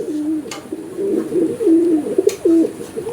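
A male Mechia-coloured high-flying pigeon of an old bloodline coos close by in Kolkata, a run of low, rolling, repeated coos over a few seconds.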